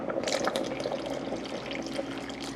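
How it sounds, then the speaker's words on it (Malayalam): Thin second-press coconut milk poured into a pot of rice porridge gives a steady, close liquid splashing and trickling with faint dripping on top, continuous and fairly soft. "അതിൽ 2-ാം പാലാണ് ഒഴിച്ചു കൊടുക്കുന്നത്"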